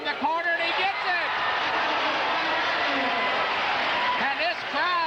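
A crowd cheers and applauds steadily at a 1978 high school basketball game between Morton Potters and St Ignatius, with a sports announcer talking over it throughout.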